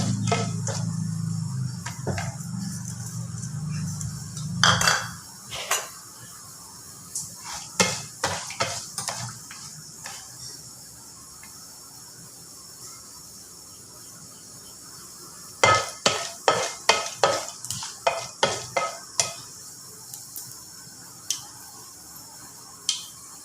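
A tempering of cinnamon stick, mustard seeds and urad dal in a pan, heard as a low rumble followed by clusters of sharp popping, tapping clicks that come in bursts with quiet gaps between them.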